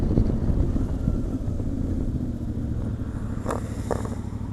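Motorcycle ride heard from the rider's position, a steady low engine drone mixed with wind rush, fairly quiet and continuous with a couple of faint brief clicks near the end.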